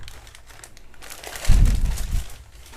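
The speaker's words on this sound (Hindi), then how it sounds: "तो चलो इसे पन्नी से बाहर निकालते हैं।" A boxed budget Prodot keyboard is pulled out of its plastic wrap, giving a short, close crinkling rustle that swells for about a second and then fades.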